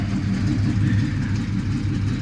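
An old Chevy truck engine, one of a 1975 or 1979 Chevy C10 pickup, runs steadily at idle with a loud, continuous low rumble throughout.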